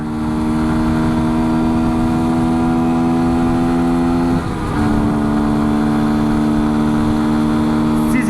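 A Beta 125 RR four-stroke enduro motorcycle engine idles steadily up close with a strong low drone, then briefly dips and revs before settling back to a constant running note.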